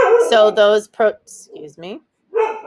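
A pet dog barks a few times in a room while a person keeps talking, the barks mixed in between and over the speech.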